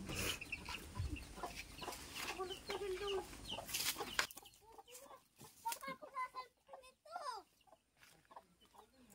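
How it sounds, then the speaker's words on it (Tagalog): Chickens cluck and squawk nearby in short bursts, with people talking over them and a louder stretch of voices at the start. "Na, manok oh."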